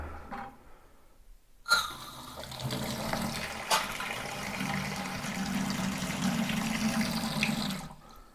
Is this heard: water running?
yes